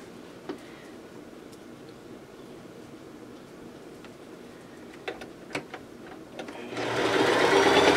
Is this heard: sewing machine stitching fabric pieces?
yes